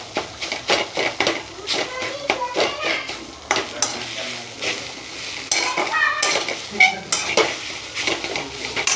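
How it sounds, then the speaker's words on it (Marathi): A small pestle pounds cooked eggplant in a pan on a home stove, producing irregular, repeated close thuds and clinks against the metal, with brief gaps between the strikes. "छोटी मुसळी ना त्याने थोडेसे कुटून घेणार आहे"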